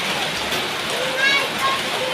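A heavy rainfall keeps up a constant broadband wash, close and even, with a few faint tonal squeaks rising briefly above the downpour.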